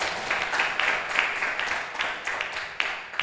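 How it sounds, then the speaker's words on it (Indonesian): Moderately faint, continuous applause from an audience at an Indonesian religious office youth Quran event, steady for a few seconds with a slightly distant, roomy quality. "Kita kasih tepuk tangan untuk narasumber kita."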